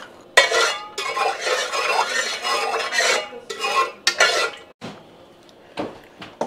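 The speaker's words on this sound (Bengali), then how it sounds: "প্রথমে এই মাংসের টুকরোগুলোকে একটু লাইট রোস্ট করে নেব।" Large mutton pieces stir and scrape in a pan of lightly salted oil, giving a close, irregular clatter of utensil against metal with bursts of faint sizzling between pauses.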